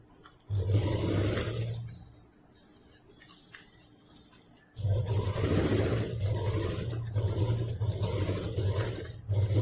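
A sewing machine stitches a travel bag made from a rice sack, its motor humming steadily up close, pausing for a few seconds midway before running again.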